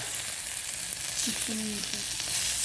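Dried fish (buwad, tuyo) frying in a pan: a steady, close, crackling sizzle runs throughout, with a brief tonal sound partway through.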